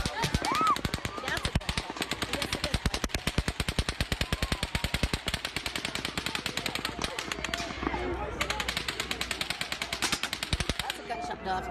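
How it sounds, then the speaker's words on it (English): Rapid automatic gunfire from the Las Vegas shooting rings out in long, evenly spaced bursts of sharp cracks, distant and echoing, while people nearby talk and shout under it. "people are still taking cover at stage left when Paddock fires an eighth burst"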